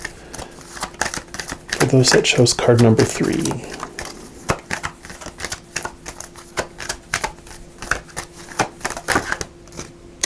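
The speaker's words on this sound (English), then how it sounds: "I'll take 6 from the bottom of this deck once I finish shuffling" A deck of cards is shuffled in quick riffles and flutters, a dense run of rapid clicks and snaps followed by lighter taps, while a person speaks briefly at the start.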